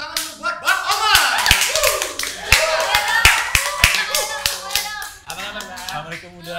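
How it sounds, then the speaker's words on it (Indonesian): Scattered, sharp hand claps from a small audience greet a guest named Bang Omar, sounding close and uneven among lively talking and laughing voices. "Tepuk tangan dulu buat Bang Omar."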